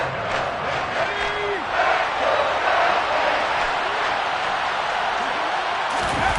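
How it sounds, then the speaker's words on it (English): Stadium crowd in a Madden 23 American football game roars and applauds in a steady wash after a defensive stop, with commentary voices talking over it. "Some applause for the defense there."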